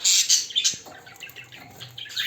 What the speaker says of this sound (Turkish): 10-12 tane kuş var çünkü salmada.